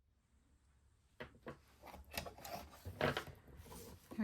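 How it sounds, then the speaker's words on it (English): Scissors cutting through two layers of fabric close to a line of stitching on a rope bowl project: a series of soft, close snips and rustles, growing louder and more frequent, with no talk. "We're going to take our scissors and we're going to cut both layers really close to our stitch."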